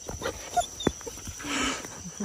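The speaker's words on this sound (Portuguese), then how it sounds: "Olha, cachorro doido." A dog in a large home yard gives a few short, scattered barks and yelps with gaps between them, over faint background noise.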